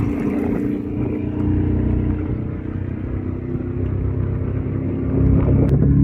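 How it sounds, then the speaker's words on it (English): A loud motorboat engine rumbles steadily close by on the Colorado River near Laughlin, Nevada, with a deep droning roar that swells slightly toward the end. "that boat's so loud"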